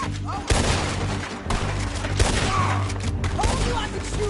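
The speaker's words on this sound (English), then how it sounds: "Told you I could shoot a gun, didn't I?" Gunfire in a PS4 video game, a few sharp shots and bursts over a busy, noisy game soundtrack, loud and close with no one talking.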